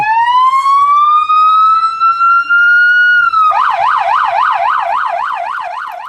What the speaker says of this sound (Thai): เสียงไซเรนดังโหยหวนมาจากประตูสนามกอล์ฟด้านหน้า ช่วอึดใจรถพยาบาลตู้ทึบสีขาวกระโผพวดเลี้ยวขับเข้ามาอย่างรวดเร็ว